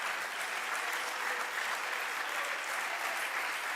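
Church congregation applause during a bilingual worship service, a dense, even roar of many hands clapping that holds steady for nearly four seconds, heard from a little distance with no talk.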